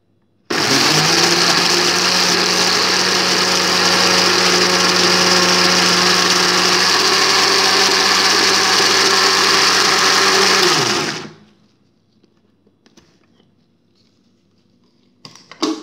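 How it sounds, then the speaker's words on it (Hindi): A countertop blender whirs loudly and steadily for about ten seconds while blending an aloe vera hair mask, then shuts off and leaves near silence with a few faint clicks. "इसके साथ ही अब इसको हमको अच्छी तरह से हमने पहले ब्लेंड कर लेना है"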